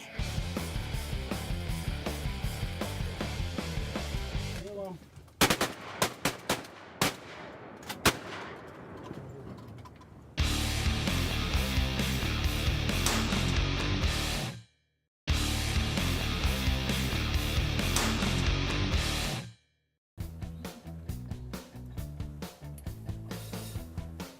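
Shotguns fire repeatedly while hunting waterfowl, loud shots coming in rapid bursts and overlapping volleys, broken by two brief silent gaps, with no talk.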